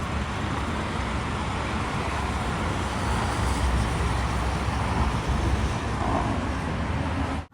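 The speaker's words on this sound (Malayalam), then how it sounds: "ഒരു ബസ്സൊക്കെ വരുന്നതാണ്." A bus passing on a road that runs beside a railway track, heard as a steady, loud broadband rush of traffic noise lasting several seconds with no voices.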